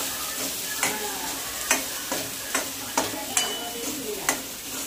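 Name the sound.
stirring salt and spice mix in a pan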